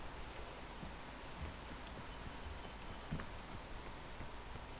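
Rain falling steadily, a faint, even hiss with scattered drops, heard alone with no talking.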